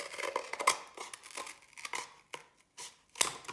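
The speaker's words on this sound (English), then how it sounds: "we're going to cut that in half with our scissors" Scissors snipping through a cardboard paper towel tube to cut it in half, a series of close, crisp cuts and crinkling scrapes, separated by short pauses, with no voices.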